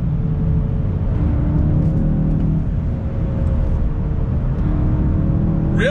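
A 2021 VW Golf GTI engine with a 6-speed manual drones loudly and steadily from inside the car, with a continuous rumbling hum as it pulls up to the redline while driving.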